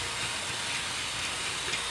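Hornby Black 5 model train running along its track, a continuous even hiss and rumble close by with no talking.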